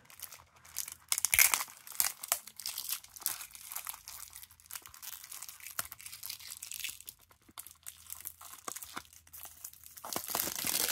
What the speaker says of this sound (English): Let's see if we can unwrap this.